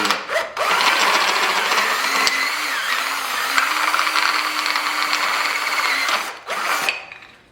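A power drill whines steadily for several seconds, its pitch wavering slightly as it bites into an aluminum bottle, with short bursts at the start and end.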